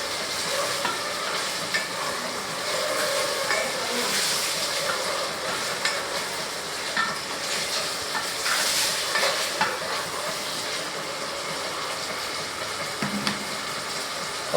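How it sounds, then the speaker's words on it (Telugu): Chicken curry fries in a pan while being stirred, a steady loud sizzle with scraping stir strokes running continuously, no voices. "బాగా వేగుతున్నాయి, బాగా వేగాలన్నమాట."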